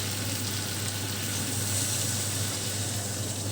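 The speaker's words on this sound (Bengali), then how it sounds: "মশলাপাতি দিয়ে ভালো করে নেড়ে চেড়ে নিয়েছি দিয়ে এবারেতে জল দিয়ে দিচ্ছি" Water goes into a sizzling spiced ridge gourd curry in a pan, giving a loud, continuous rushing hiss that holds steady for a few seconds with no talk.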